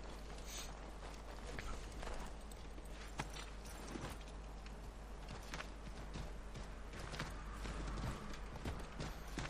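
A horse walks in the video game Assassin's Creed 3, its hooves clip-clopping in a steady rhythm close by over constant game ambience, with an occasional snort.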